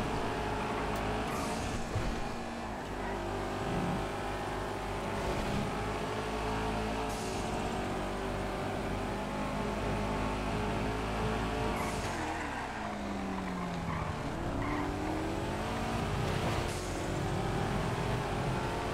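An MX-5 race car in the racing video game GTA FiveM with its engine droning steadily and loudly throughout, revving up and down as it races, with brief tire squeals and other cars close by.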